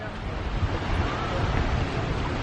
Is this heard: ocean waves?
yes